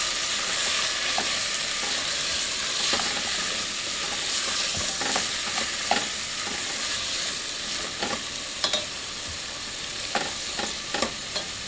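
Garlic, onion and spices fry for a potato curry while being stirred, a steady close sizzle broken by repeated scraping clicks of a utensil against the pan, with no talking.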